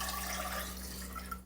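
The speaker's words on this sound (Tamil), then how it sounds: "வச்சுட்டு முட்டை வேகிறதுக்கு தேவையான தண்ணியை அந்த முட்டைகளோடு ஊற்றிடுங்க." Water poured over raw eggs inside the vessel of an egg cooker, a steady close splashing and trickling that runs without pause beneath a constant low electrical hum.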